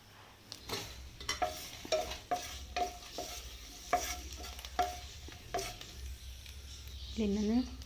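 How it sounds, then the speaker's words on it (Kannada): Seven or eight Byadagi chillies and two spoons of coriander seeds dry-fry in a pan for bendekai huli, stirred with a steady rhythm of scraping strokes and small squeaks over a low sizzle, close and fairly quiet. "ಇದಕ್ಕೆ ಒಂದು 2 ಸ್ಪೂನ್ ಆಗುವಷ್ಟು ಕೊತ್ತಂಬರಿ ಬೀಜನ ಕೂಡ ಆ್ಯಡ್ ಮಾಡಿಕೊಂಡು ಫ್ರೈ ಮಾಡ್ಕೊತೀನಿ."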